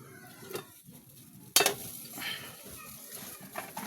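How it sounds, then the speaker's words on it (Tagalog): Eggplant dropped into a pot of boiling tuna (tulingan) fish broth, a sharp metallic clank near the middle followed by soft bubbling and light stirring noises, close and fairly quiet. "Ato nang ilunod ang atong talong mga idol."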